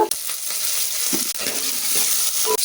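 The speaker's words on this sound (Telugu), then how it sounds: "ఆ తర్వాత ముందుగా కట్ చేసి పెట్టుకున్న టమాటాలు, కరివేపాకు వేసుకోవాలి." Onions, tomatoes and curry leaves fry in oil in a pan, giving a steady, close sizzle with a few faint stirring scrapes and no voices.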